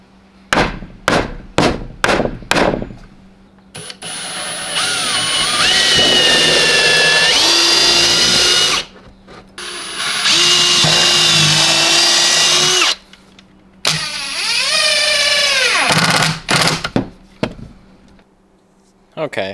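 A power drill drives screws into a heavy truck camping setup, with a few sharp knocks at the start, then several long whirring bursts that rise and fall between short gaps.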